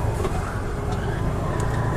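Small three-wheeled Piaggio Ape City Fi 2020 commercial vehicle engine, a steady, close, droning mechanical hum held at even loudness, with a faint voice beneath it.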